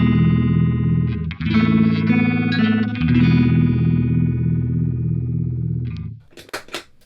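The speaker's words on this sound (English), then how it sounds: "The Goodvibes sounds like this" Electric guitar through an EHX Goodvibes pedal at maximum speed, playing a few loud strummed chords with a rapid, pulsing phase warble that rings out and ends in a couple of sharp string clicks.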